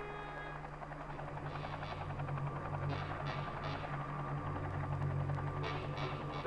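Steady thrumming helicopter rotor drone with a low mechanical hum, continuous and fairly close throughout, as the helicopter hovers over a whale at sea.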